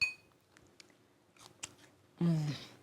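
A few faint crisp clicks and rustles lead into a single loud crunchy bite into a buttery cornmeal parmesan biscuit, close to the ear, with no talking over it.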